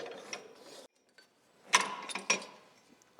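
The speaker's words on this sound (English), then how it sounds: "I'm just going to loosen up now the spring" A ratchet loosens the suspension spring on a 1989 race car fitted with a bike engine, giving close, bursty mechanical clicking and grinding in short bouts separated by brief pauses.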